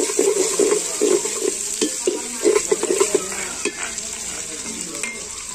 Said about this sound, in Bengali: এখানে হচ্ছে পেঁয়াজ ভেজে নিচ্ছে